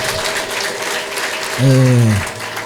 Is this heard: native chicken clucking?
no